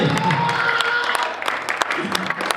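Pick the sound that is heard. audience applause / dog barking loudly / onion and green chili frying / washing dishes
audience applause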